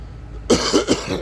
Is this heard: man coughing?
yes